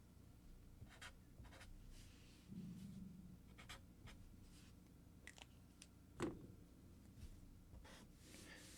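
Marker or pen writing an equation on a board during an electronics lecture: faint, intermittent scratchy strokes and taps in a quiet room, with one louder tap near the end.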